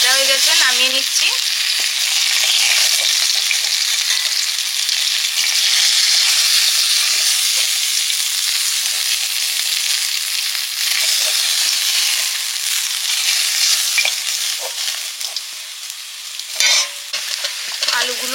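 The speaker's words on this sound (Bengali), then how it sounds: "আলুগুলো প্রায় ভাজা হয়ে এসছে" Potatoes sizzle loudly in a pan of oil while a utensil stirs and scrapes through them, with repeated clinks and shuffling over a constant, close, crackling fry.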